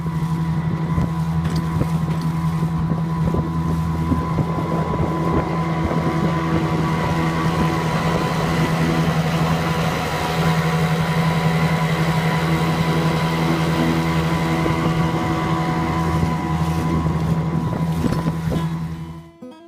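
Outboard motor on a small boat crossing Meditation Lake in Whiteshell Provincial Park on a windy day, a steady loud engine drone with wind buffeting and water slap, continuous for the whole stretch with no talking.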